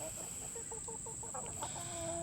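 Young backyard chickens cluck in quick, soft, repeated chirping bursts, faint and fairly close, over a steady high-pitched background tone.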